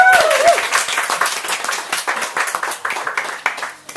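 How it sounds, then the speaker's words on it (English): Audience applause and cheering after a reading at a poetry show at the Edinburgh Fringe, a dense burst of clapping that stays loud and steady for the full stretch with a brief high voice at the start. "Can I have a huge round of applause for James?"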